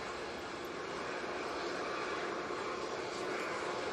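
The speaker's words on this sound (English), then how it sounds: "EasyJet A320neo lined up, ready to go" An easyJet Airbus A320neo lined up on the runway, its jet engines giving a steady, fairly distant broadband rumble and hiss with no voices.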